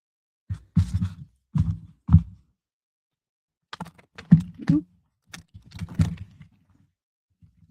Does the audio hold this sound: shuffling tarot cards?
yes